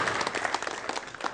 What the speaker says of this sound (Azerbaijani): Alqışlarla yola salırıq Kamranı.